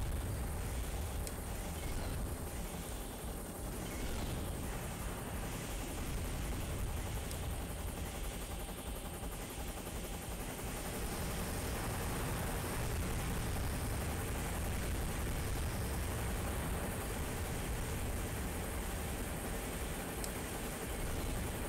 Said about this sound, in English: God, I still hate that plane sound glitch.